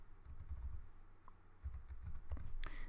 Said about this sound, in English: So just type in email address here.